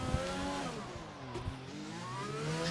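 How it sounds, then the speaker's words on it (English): Race car engine revving with rising and falling pitch as it slides sideways on cold tyres in an F1 racing video game, a steady close engine drone with a brief tyre squeal. "Looks like he's running no traction, getting his tyres warmed up, going sideways there."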